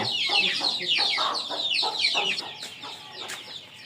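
Several chickens cluck repeatedly in short, bursty calls, fairly close and steady, with overlapping voices and no talking.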